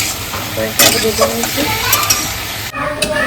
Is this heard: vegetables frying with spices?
yes